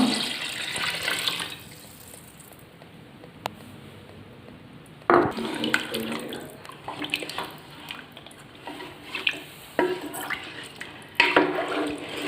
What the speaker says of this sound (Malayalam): ആ ഇതിൽ ഇപ്പം 2 ജഗ്ഗ് വെള്ളം ഒഴിക്കണം. 1 ജഗ്ഗ് ഒഴിച്ചു.